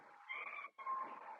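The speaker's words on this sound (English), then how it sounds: "you might have just heard my cat there" A domestic cat gives one short, faint meow in two parts with a brief break between, heard alone in a quiet room.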